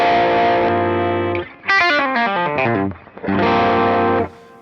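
Electric guitar driven through a TC Electronic Vintage Pre-Drive VPD1 set to top boost, loud and distorted: sustained chords, then a run of fast single notes with bends, then chords again, alone and close.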